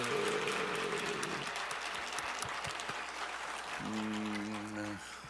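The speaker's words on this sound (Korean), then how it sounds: "박수라도 쳐드립시다." A church congregation applauds during a Parents' Sunday service, with brisk, dense clapping throughout. A sustained, droning tone joins near the end as the clapping continues.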